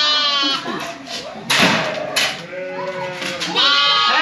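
A flock of lambs bleats on a farm, with many overlapping high, wavering cries coming near and far, loud and almost constant, mixed with a few dull thumps.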